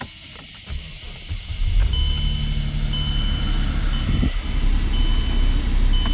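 Mercedes-Benz E350 cranking and catching on a cold start in warm weather, settling into a steady, close idle hum with faint tonal whines over it.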